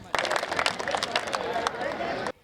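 Audience applause for poet Neha Sharma at a kavi sammelan for Maharaja Agrasen Jayanti: dense, sustained clapping from a large crowd, starting abruptly and holding steady for about two seconds before cutting off.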